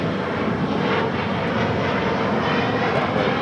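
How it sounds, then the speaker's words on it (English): An Air France Boeing 777-300ER jet takes off from runway 24 left, a loud, dense, continuous engine roar that stays steady throughout. "Air France heading back to Paris, taking off there on 24 left"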